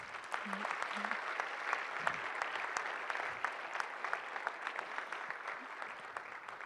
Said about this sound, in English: Can we one more time have a round of applause for our winners?